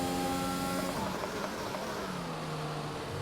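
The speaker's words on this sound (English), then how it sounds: "As I accidentally try and burn out the engine by over-revving." A Formula 1 car in the F1 2021 racing game, driven in the Canadian round, roars loudly and steadily at high revs, its engine note dropping partway through as it strains near the limit.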